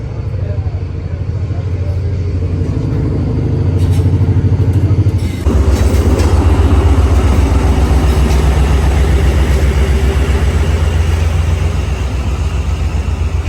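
The Awam Express rumbles into a station platform with a deep, heavy engine drone that grows louder and denser, steady clattering underneath, people talking nearby.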